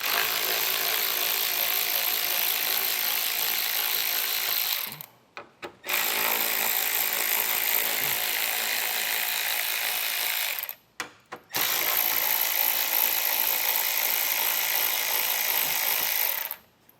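A power tool drives out 7mm screws holding the grille of a 2019 Chevrolet Traverse to the radiator support. It whirs loudly in three long runs, with two short pauses between them and no talking.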